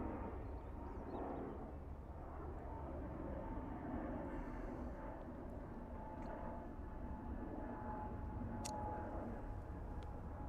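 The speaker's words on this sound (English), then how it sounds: "Quite a cool looking aircraft." An aircraft at Dublin Airport drones in a low, steady engine rumble at a distance, faint and continuous with no voices.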